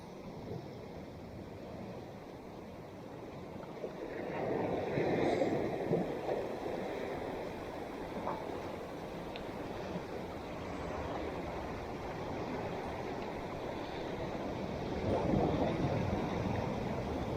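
Sea waves wash against a big rocky fishing spot, a steady rushing roar that swells and surges every few seconds, with wind noise, fairly close and moderately loud, no voices.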